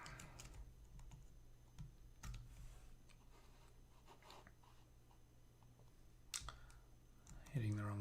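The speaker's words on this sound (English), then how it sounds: "Hitting the wrong keys here." Keys on a computer keyboard are tapped in scattered, irregular clicks and short bursts, faint and close, over a quiet room hum, with a louder thump near the end.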